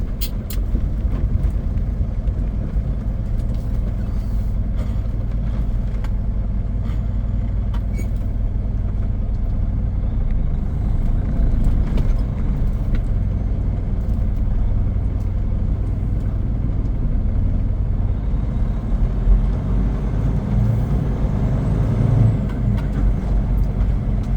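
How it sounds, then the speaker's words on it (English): A heavy truck passes on the Dalton Highway, its deep engine rumble and road roar sustained and loud throughout, with brief air-brake hisses near the end. "Wait on this truck here."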